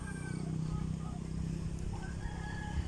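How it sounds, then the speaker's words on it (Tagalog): Chickens and roosters in the countryside crow and cluck faintly in the distance, several drawn-out calls overlapping against a low, steady outdoor background. "So, daming ibon"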